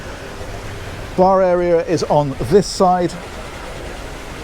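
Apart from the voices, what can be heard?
decorative waterfall feature on a Princess Y95 superyacht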